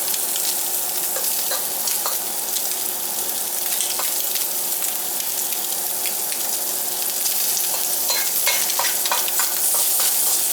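Already-cooked breakfast food browns and sizzles in a frying pan, a steady close hiss broken by scraping stirs and clicks of the utensil against the pan, with no talking.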